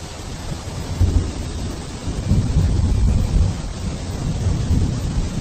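Heavy rain hisses steadily while deep thunder rumbles and rolls through, swelling louder in the middle; no voices.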